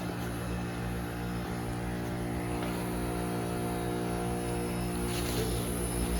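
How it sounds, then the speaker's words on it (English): A Trane XR13 HVAC outdoor unit defrosting with a bad fan motor gives off a steady, continuous mechanical hum and buzz with strong low tones, plus a brief hiss near the end, close and constant throughout. "So this might be a bad fan motor instead of a defrost cycle"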